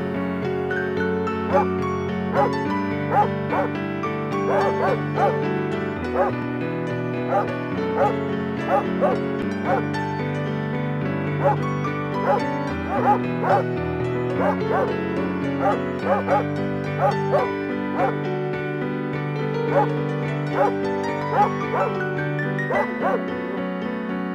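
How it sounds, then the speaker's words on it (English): A dog barks and yips repeatedly over a dense, tonal music-like background, steady rhythm of barks throughout. "That constant barking that jabs at his eardrums like an ice pick."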